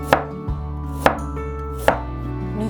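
Knife chopping ginger on a cutting board in a home kitchen, three sharp, distinct chops spaced about a second apart, close and clear against a steady low background hum, with no talking.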